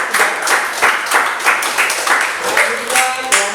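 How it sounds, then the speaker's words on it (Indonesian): An audience claps in a classroom session, a dense, steady wash of applause with faint voices mixed in beneath it. "Beri tepuk tangan."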